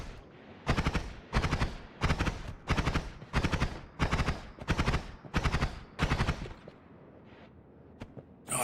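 Rapid machine-gun-like weapon fire in the video game Noita comes as about eight evenly spaced, crackling bursts in a steady rhythm, each loud and close, then stops, leaving faint clicks.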